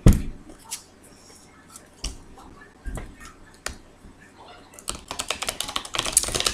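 Tarot cards shuffled by hand in a series of crisp, clicking riffles and snaps, sparse at first then a dense rapid flurry toward the end, close and fairly loud.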